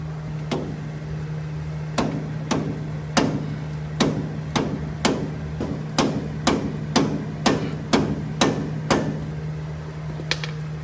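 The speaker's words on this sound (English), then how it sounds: "I might can get a hammer in there now." Repeated sharp metal hammer blows on the brakes of a Case tractor, about one or two per second, ringing over a steady low hum, close and loud, no voices.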